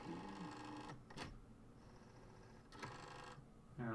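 A flatbed scanner scanning at 600 dpi produces a steady mechanical whir, close and continuous, broken by brief louder bursts from the carriage motor.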